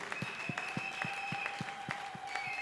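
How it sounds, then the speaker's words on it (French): A church congregation at a deliverance and healing service claps in a steady, quick rhythm, about four beats a second, with sustained musical tones underneath. "Acclamez pour eux."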